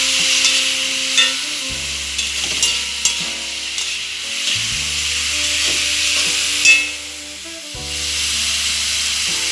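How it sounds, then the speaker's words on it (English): Ackee and saltfish mixture stirred in a pan with a large spoon, steady sizzling frying under irregular scraping and clinking strokes, with a couple of sharper knocks against the pan. "Stir it up."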